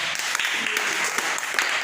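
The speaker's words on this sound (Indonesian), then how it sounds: "Tepuk tangan untuk Rela dulu." A classroom full of pupils claps for a classmate during a lesson, a short burst of quick, scattered claps at moderate loudness with faint voices mixed in.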